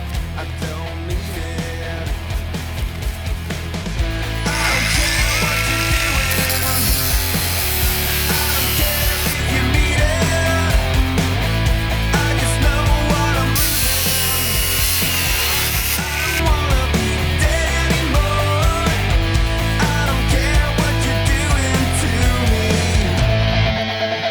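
Revolt cordless angle grinder cuts through pipe with a loud, continuous abrasive whine and grinding rasp, close and steady for the whole stretch, with only small dips in intensity.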